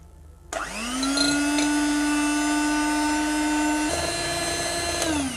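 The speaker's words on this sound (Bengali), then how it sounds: "ডিম দর্শক আমি ভিটার মেশিন দিয়ে ভিট করে নেব" An electric hand beater whirs up and runs at a steady high-pitched hum while beating eggs for a zebra cake, loud and close, dipping slightly in pitch partway through, with no talk.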